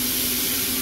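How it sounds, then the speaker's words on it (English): A shower head sprays water onto an off-road vehicle radiator during cleaning, a steady broadband hiss with a low hum running underneath, close and continuous throughout the short moment. "Get it in the shower and start spraying."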